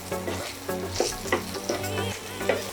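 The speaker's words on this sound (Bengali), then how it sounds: "2 মিনিট ফুলকপিটাকেও সুন্দর করে ভেজে নিই।" Cauliflower pieces fry in hot oil in a kadai, a loud, close sizzle under repeated spatula strokes that scrape and toss the florets at a steady, even pace.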